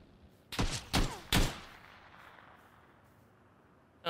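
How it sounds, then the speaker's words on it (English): Three sharp, loud sniper rifle shots from the video game PUBG crack in quick succession with echoing tails, followed by a quiet stretch and the start of another burst at the end. "Sounds like a sniper."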